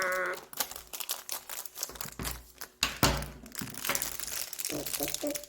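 Plastic packaging on a Re-Ment miniature bakery toy set is torn open up close: quiet, irregular crinkling and ripping with a few soft thumps as the wrapper is worked apart.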